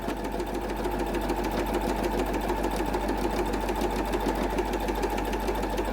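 A sewing machine top stitching the hem of a fabric napkin, with a steady, even mechanical whir and rapid needle chatter running continuously and close by, with no talking.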